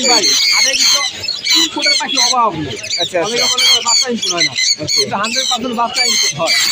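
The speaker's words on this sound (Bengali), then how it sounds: "ওনার পাখি কেমন চিল্লাচ্ছে, সবগুলা খালি চিল্লায়।" Pet parrots and other caged birds at the Mirpur 1 bird market in Dhaka squawk and screech loudly and continuously, overlapping with nearby people talking throughout.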